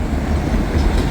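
A small CSX train passes a road crossing with the gates down, giving a steady low rumble of wheels and cars rolling by at close range, without pauses, and nobody talks.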